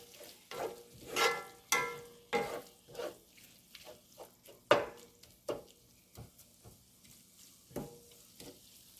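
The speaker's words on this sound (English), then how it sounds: "I'll make sure I use my wooden spoon to break it apart" A wooden spoon scrapes and knocks through food frying in a pan for loaded nachos, breaking it apart with repeated sharp taps and scrapes over a soft sizzle, close and moderately loud with no talking.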